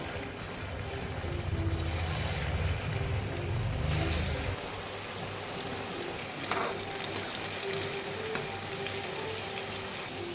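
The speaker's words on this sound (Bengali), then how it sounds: "এদিকে আমি তেল চাপিয়ে দিয়েছি, তেলটা আমার গরম হয়ে গেছে, এবারে সবগুলো আমি ভেজে নেব।" Flour-dough sweets fry in hot oil with a steady, close crackling sizzle, heavier and bubbling at first, then settling into a lighter continuous hiss.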